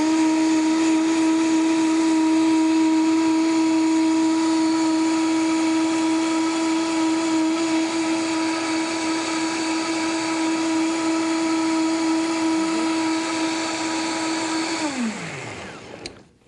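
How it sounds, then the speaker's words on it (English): A countertop blender runs steadily at a low setting while blending a vegan Italian sauce, a loud continuous whirring hum with a steady pitch that holds for about fifteen seconds, then winds down as the motor is switched off. "And at this point, you're going to blend it."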